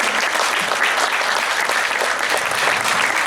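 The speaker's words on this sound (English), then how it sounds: "warm applause for Marlies and for Tilo" A short burst of warm audience applause at the close of an architecture talk, dense and steady clapping throughout with no voices over it.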